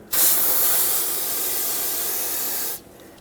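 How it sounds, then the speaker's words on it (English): A can of brake parts cleaner sprays a single sustained, loud hissing burst lasting under three seconds to rinse brake fluid off a rear brake caliper on a 2011-2016 Ford F-350, then cuts off abruptly. "Use some brake parts cleaner if needed to rinse off the brake fluid."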